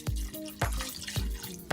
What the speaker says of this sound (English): next I'm going to add some distilled vinegar